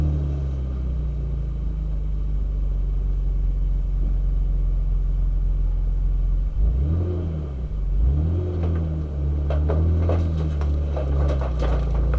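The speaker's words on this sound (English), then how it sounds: "We're going to fire up the Z3." A BMW Z3 roadster pulled from a barn, fresh coils and spark plugs fitted, cranks and fires, then runs with a steady low engine rumble and a few revs, close and loud with no talk.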